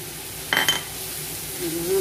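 A spoon stirs vegetables for soup cooking in a pot, with a soft simmering sizzle underneath and a couple of quick metallic clinks near the start; short and close, no talking.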